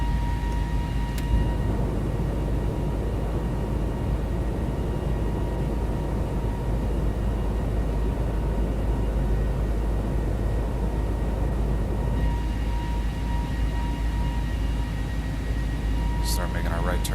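A ToLiss A320neo airliner in the X-Plane 11 simulator climbs with flaps retracting on autopilot, its engines a steady, unbroken drone throughout with no pauses.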